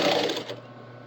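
Sewing machine running a top stitch along a long seam, a short close burst of whirring that quickly winds down to a low hum.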